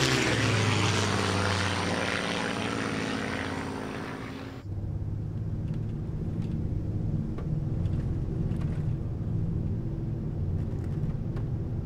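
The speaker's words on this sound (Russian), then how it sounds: "С крушения самолета." An aircraft roars loudly while crashing in the video game Shadow of the Tomb Raider; a dense engine and wind roar cuts off abruptly, leaving a lower rumbling drone with scattered knocks.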